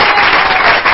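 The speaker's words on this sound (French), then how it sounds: "On applaudit encore le jeune garçon." A studio audience on a TV show set applauds a young performer, a brief burst of loud, dense clapping that holds steady.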